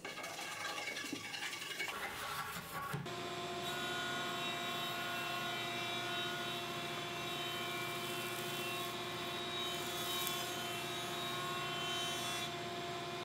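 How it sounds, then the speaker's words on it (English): A jointer flattens one face of a wooden table leg for a wine hutch: a steady, loud machine whine with a rough cutting rasp underneath, running continuously after a brief startup. "after ripping, flatten one face and then square one adjoining face at the joiner"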